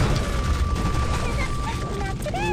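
Gunfire from the video game Hon, a loud, dense fusillade of rapid shots that runs without pause, mixed with rising and falling tonal game effects.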